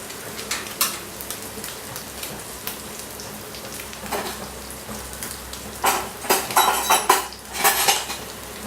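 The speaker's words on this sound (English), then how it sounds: "You can see it's getting nicely fried." Coriander-crusted halloumi frying in a pan, with scattered clinks and scrapes of utensils against the pan over a steady crackle, growing busier and louder toward the end.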